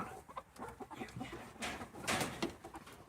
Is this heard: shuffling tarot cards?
no